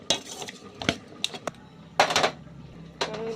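Metal clanks and clinks from a wok being placed on a stove, several sharp knocks spaced irregularly across a few seconds in a quiet kitchen.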